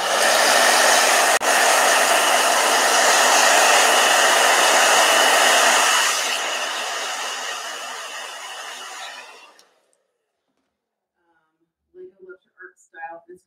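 A blow dryer running steadily and loudly at close range while a travel journal page is painted with gouache, then switching off and winding down, followed by a few faint knocks.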